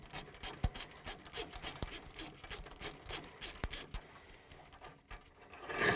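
A 22mm bolt on a Tempo seed drill row unit is loosened with a wrench, making a string of rasping, ratcheting clicks and metallic taps in uneven bursts, close and fairly quiet.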